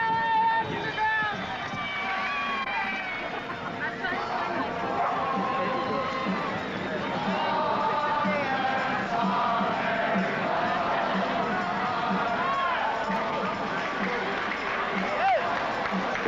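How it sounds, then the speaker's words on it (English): A large street crowd shifts and moves aside as police with paddy wagons and nightsticks arrive, giving a steady, dense wash of many overlapping voices, shouts and footsteps that never drops out. "The crowd parts, clearing the street."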